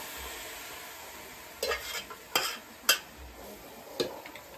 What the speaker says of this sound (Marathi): आता चिकन कोला टाकला.